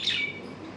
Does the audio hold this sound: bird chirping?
yes